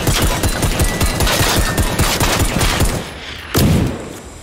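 Rapid bursts of automatic gunfire from the video game Generation Zero, loud and continuous for about three seconds, then a brief pause and a final heavy shot that fades out.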